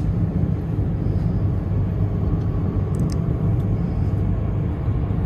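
From inside a German train picking up speed, a continuous low rumble and rolling roar holds steady and close, with no one talking.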